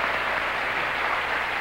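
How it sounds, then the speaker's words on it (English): A studio audience at the 1978 Joker's Wild game show applauds a contestant, a dense, even wash of clapping that holds steady and fairly loud throughout, with no voices over it. "this audience wants to applaud you for the nice effort"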